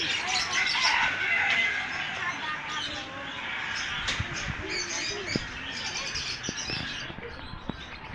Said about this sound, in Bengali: কি বড় বড় মুরগি, এত বড় বড় মুরগি